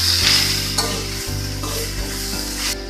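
Grated coconut is stirred in a sizzling pan with bay leaves and cinnamon, giving a constant loud frying hiss with the scrape of a spatula underneath and no speech.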